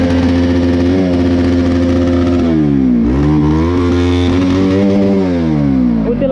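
Motorcycle engine on a ride, loud and close, idling then revving up and down in several swells with a steady throaty drone underneath.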